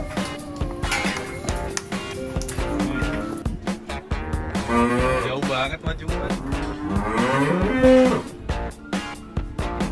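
Cattle at a tourist farm moo repeatedly, their long, drawn-out lowing calls overlapping and fairly close, with faint background noise between calls.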